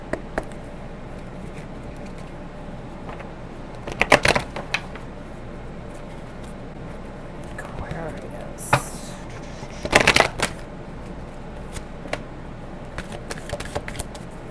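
Oracle cards are shuffled in two short, crisp riffling bursts a few seconds apart, close and clear, with light taps and handling noises in between and quiet talking at times.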